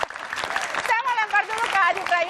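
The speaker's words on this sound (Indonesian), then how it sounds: "Oke, tepuk tangan dulu dong." A studio audience at an Indonesian political talk show claps in a dense, steady burst of applause lasting a couple of seconds, with a voice speaking over the clapping.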